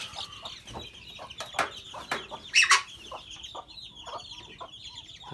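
Ducks in a duck house that also holds eggs and ducklings give close, repeated clucking calls in short bursts, with one louder flurry midway over quiet rustling.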